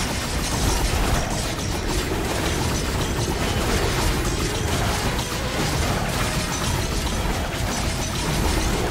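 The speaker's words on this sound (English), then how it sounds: "Hopefully the explosions help with that." Continuous dense game-combat noise from Risk of Rain, with a Mercenary fighting a magma worm and swarms of flying enemies, full of overlapping bursts, pops and mechanical clatter at steady loudness throughout, no talking.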